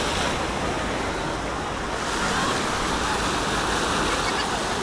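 Sea waves break close to the shore on an Alanya beach with a continuous loud broadband wash of surf, steady and enveloping with no pauses.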